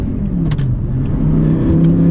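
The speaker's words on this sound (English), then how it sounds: "getting this car up in the revs is what it's all about." An Audi R8 V10 manual's engine drones loudly from inside the cabin on a highway, revving steadily higher under acceleration with constant road rumble and no talking.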